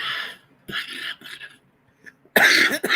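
Several harsh coughs, a few short bursts early on followed by a louder, closer cough near the end.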